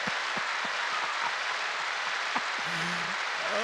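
A small audience applauding a guest's welcome at a Sunday night hymn show, a steady wash of many hands clapping at an even level throughout, with no one speaking over it.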